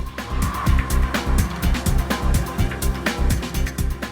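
A Porsche Macan driving off-road, its engine rumbling in pulsing bursts with rough, scrabbling tire and suspension noise, fairly loud and close.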